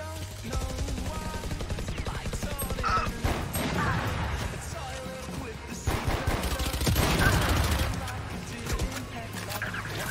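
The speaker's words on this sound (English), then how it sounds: "I'm just mag dumping into these dudes" Rapid automatic gunfire from a Valorant match, a loud dense spray of shots emptying a magazine with clanking mechanical bursts, continuous for several seconds with a few sharper peaks and faint game sounds underneath.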